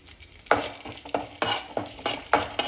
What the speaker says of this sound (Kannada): ಸ್ವಲ್ಪ ಕರಿಬೇವಿನ ಸೊಪ್ಪು, ಇಷ್ಟನ್ನು ಹಾಕಿ ಮಿಕ್ಸ್ ಮಾಡ್ಕೊಳ್ಳೋಣ